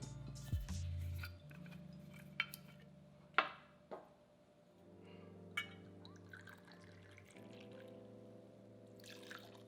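Blanco tequila being poured into a shaker already filled with ice, a thin trickling stream with a few small clinks, quiet and close.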